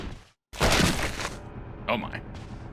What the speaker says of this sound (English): that was the sound of a rope breaking